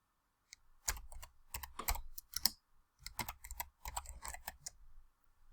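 Bursts of computer keyboard typing, key clicks in quick irregular runs separated by short pauses, close and clear, as an assignment title is entered on a school online workspace.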